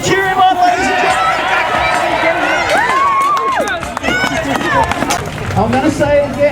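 Audience cheering and whooping for a volunteer running laps at a medieval fair show, a dense, loud crowd roar with shouts and whistles sustained throughout, with voices mixed in.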